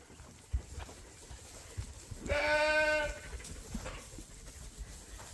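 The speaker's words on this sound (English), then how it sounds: "We're just gonna go let the ewe lambs out right now." A ewe lamb gives one loud, clear bleat in a sheep barn, with quieter rustling and shuffling of livestock before and after it.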